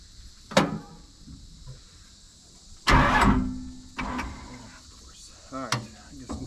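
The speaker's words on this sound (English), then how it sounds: "I really need to get this loader running" A Bobcat loader with weak, dying batteries cranks in short bursts, sluggish starter whirs separated by quiet pauses amid faint insect chirping outdoors, without catching.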